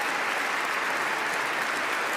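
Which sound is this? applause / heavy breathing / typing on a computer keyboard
applause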